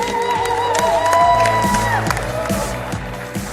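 A crowd applauds and cheers for the players after a Squash Eredivisie match at the Frans Otten Stadion, with steady clapping, whoops and shouts filling the space, close and loud throughout.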